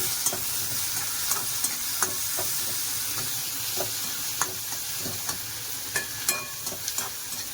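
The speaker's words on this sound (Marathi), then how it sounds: "टोमॅटो पण मस्त शिजवून घ्यायचा." Tomatoes cooking in a pan for upma give off a continuous close sizzle, with soft, irregular stirring scrapes and taps of a spoon throughout and no voices.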